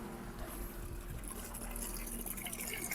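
Water pours and trickles steadily into a barrel in a closed-loop cooling circuit, a continuous close splashing flow with no one talking.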